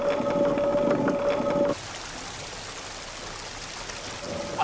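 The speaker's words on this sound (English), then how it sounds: "that water is falling maybe a metre, going under a wheel" Water drops about a metre and rushes under a wheel at a medieval castle mill, making a steady, close broadband rush. A faint tonal hum rides over it at first, then fades, leaving only the flowing water.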